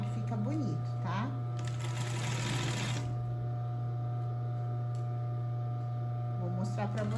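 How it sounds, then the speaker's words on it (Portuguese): A sewing machine stitches along the edge of fabric with a rapid mechanical whirring burst, under a steady electric hum, as someone talks close by. "a gente vai costurar ele bem na beiradinha"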